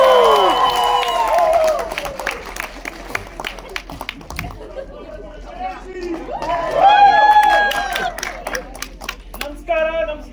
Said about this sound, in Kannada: ಬಂದ್ರು ದೊಡ್ಡ ಚಪ್ಪಾಳೆ.